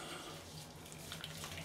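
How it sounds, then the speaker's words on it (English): A tap runs steadily into a sink as cold water is used to rinse off after a shave, a faint continuous splashing hiss with no talk. "I'll rinse this off with cold water."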